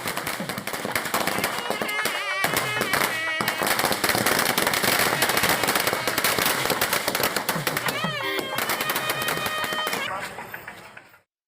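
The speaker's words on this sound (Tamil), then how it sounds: "பேருந்து நிலையம் அருகே பட்டாசு வெடித்தும் மேளதாளங்கள் முழங்கியும்" Firecrackers burst near a bus station during a political welcome with drums, in a rapid, loud, crackling string for about ten seconds, then stop abruptly.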